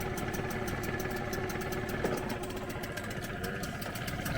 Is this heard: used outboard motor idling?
yes